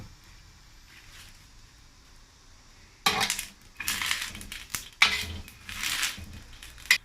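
Metal utensil scraping and clinking in a pot as a pork belly, carrot, potato and mushroom stew is turned over, several close clattering strokes starting after a quiet stretch.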